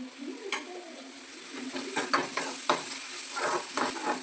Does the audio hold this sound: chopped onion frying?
yes